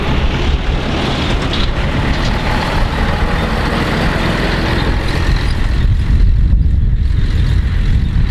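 A Scania truck rolls past on a road in Paraguay, a loud, close, continuous engine and tyre roar that eases slightly near the end.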